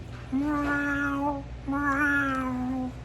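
A voice imitates a cat meowing, giving two long, drawn-out meows, each about a second long, loud and close, with a brief pause between them.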